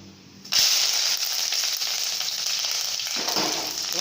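Curry leaves hit hot oil already holding fenugreek and fennel seeds, bursting into a loud, steady sizzle that starts abruptly and crackles on without pause for the Chettinad fish curry.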